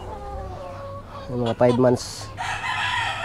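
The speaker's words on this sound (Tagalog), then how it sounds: "Yun na lang natira sa mga manok ko dito." Five-month-old chickens on a Philippine backyard farm, storm survivors, cluck softly and a rooster crows loudly up close, while someone speaks briefly.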